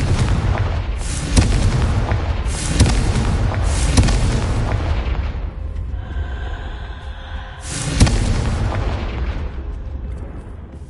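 A Confringo fire spell from Hogwarts Legacy bursts in a string of heavy booms. Several sharp blasts ring out, with one more loud hit after a brief lull, over a rumbling game soundtrack.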